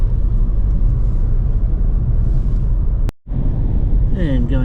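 A car cruising along a quiet road past lakes and gum trees in Tasmania, with a steady low engine and tyre rumble throughout, a brief dropout, then the drive continuing as a voice starts talking near the end.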